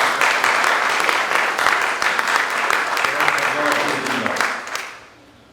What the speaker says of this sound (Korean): 이게 박수 한번 보내드리시죠